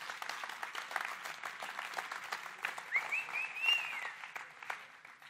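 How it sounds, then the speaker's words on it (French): Audience clapping for event organizers at a conference, fairly quiet and uneven with distinct individual claps, while a voice speaks briefly over it. "on va tous les applaudir quand même encore une fois."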